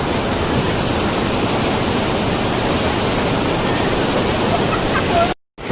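Rushing water of the Kate Khola river in Baglung, Nepal: a loud, steady, close roar of broadband noise that holds unchanged for about five seconds, then cuts out abruptly near the end.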